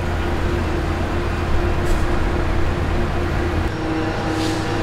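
Near a pier in San Clemente, California, a passing train gives off a steady, loud rumble and drone with a low hum that continues for several seconds, then eases slightly near the end.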